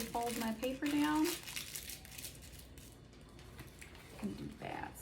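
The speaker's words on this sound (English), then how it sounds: "I take my item, just kind of roll it along, make sure there's enough, and then I just take and nicely fold my paper down" Paper being folded down around an item while an order is packed, a few soft crinkling rustles that start under brief talk and then carry on faintly alone.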